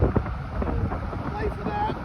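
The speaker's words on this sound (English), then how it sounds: "We've got a south wind today, a little left or right wind." A south wind buffets the microphone on a golf course, a steady low rumbling gust throughout, with faint background sounds.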